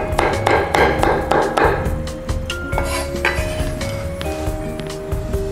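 A knife chopping garlic cloves on a board, a rapid run of sharp, close chops at first, then scattered clinks and taps over a lingering tonal background.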